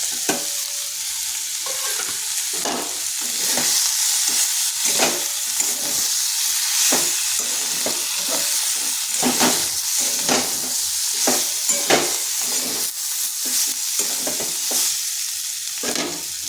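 Prepared spice paste fries in a pan, giving off a steady hiss and sizzle. Repeated scraping strokes of a utensil cut through at a regular stirring rhythm.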